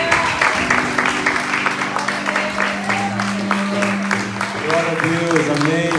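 Church congregation applause blends with sustained singing and musical tones, the clapping a dense, moderately loud patter running throughout beneath the voices.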